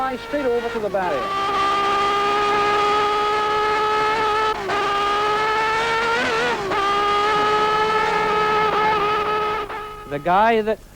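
A car engine revs hard and climbs in pitch, accelerating loudly for several seconds, dipping between gear changes, then easing off near the end.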